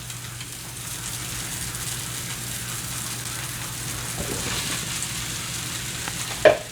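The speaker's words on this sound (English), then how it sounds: "You just want the skin of the mushroom to touch the cast iron so it can get nice and crispy." Mushrooms and scallions fry in a cast iron pan with a steady, close crackling sizzle that holds evenly throughout, ending in one sharp clink.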